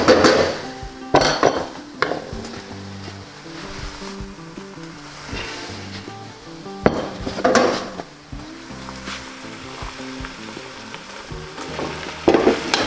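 Pasta and broccoli rabe are tossed in a pan of sizzling olive oil, with a steady frying crackle under repeated spoon scrapes and clinks of metal against the pan, close and clear, with no talking.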